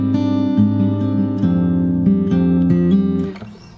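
Fingerstyle acoustic guitar plays a phrase of a theme, close and clear, with a steady repeating bass and plucked upper notes, ringing out briefly at the end.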